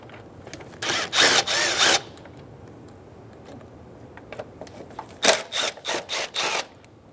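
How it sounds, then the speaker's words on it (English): An 8mm socket ratchet loosening the air box bolts on a 2003-2008 Honda Pilot, two bursts of rapid clicking, one early and one later with several short ratcheting strokes, close up and alone. "Using an 8mm socket, remove the 4 bolts for the air box."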